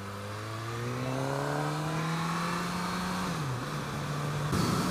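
A 2017 Suzuki GSX-S1000 motorcycle engine pulls hard, its tone climbing steadily through the revs for several seconds, then dropping briefly at a gear change before building again, loud and continuous with wind noise.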